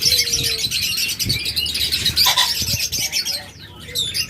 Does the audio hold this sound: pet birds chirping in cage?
yes